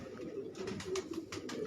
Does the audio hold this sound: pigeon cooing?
yes